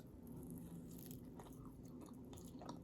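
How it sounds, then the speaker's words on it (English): Biting into crunchy sourdough bread crust, with close, crisp crackling bites and chewing over a steady low background hum, no talking. "I feel sourdough crust is a little bit better because it has more of that crunch factor."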